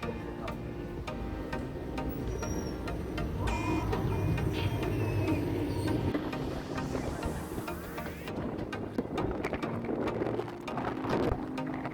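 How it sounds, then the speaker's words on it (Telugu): Steady rain falls continuously, a dense patter and hiss with scattered drips and ticks, with no voices. "వర్షం పడుతుంది."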